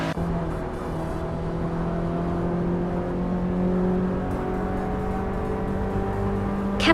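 A Renault Clio 3 RS hatchback in a racing video game drives with a steady, droning engine tone that holds near constant throughout, close and continuous with no talking.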